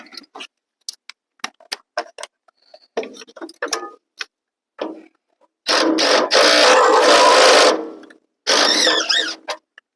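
Power tool working a stuck bolt loose under the cab of a 1954 truck, first a run of sharp isolated clicks and taps, then two loud sustained close bursts of rattling impact hammering with a short break between.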